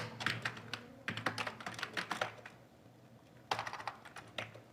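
Fingers type on a computer keyboard in quick, close, clattering bursts of keystrokes, with a short pause before a final flurry.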